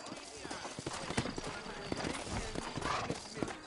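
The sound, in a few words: horse hooves in video game Red Dead Redemption remaster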